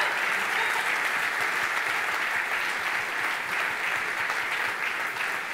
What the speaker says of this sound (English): could I have another round of applause for these guys for making that all happen?